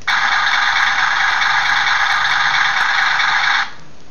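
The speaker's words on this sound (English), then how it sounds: "The little sound effect that where the engine's idling." An electronic idling truck engine effect from a Transformers Revenge of the Fallen Leader class Optimus Prime toy plays as a loud, steady buzzy drone for about three and a half seconds, then cuts off abruptly.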